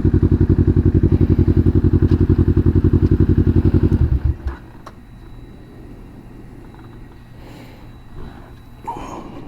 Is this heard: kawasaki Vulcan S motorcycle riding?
yes